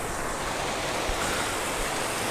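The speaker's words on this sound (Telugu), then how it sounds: "అవతల సైడ్ పెద్ద వాటర్ ఫాల్స్ వస్తుంది చిన్న వాటర్ ఫాల్స్" A small waterfall spilling near the pond of the Maddileti Narasimha Swamy temple gives off a steady, dense rush of falling water, even and unbroken throughout, fairly close.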